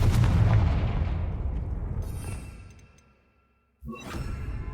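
The Confringo explosion spell in the game Hogwarts Legacy: a loud booming blast that rolls off and fades to near silence over about three seconds, then a fresh burst of crackling noise cuts in sharply.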